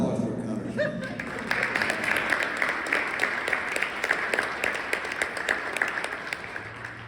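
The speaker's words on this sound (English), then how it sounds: "How about an applause for Connor Smith?" Steady, dense applause from a symposium audience honoring a guest, close and continuous for several seconds with a faint voice underneath.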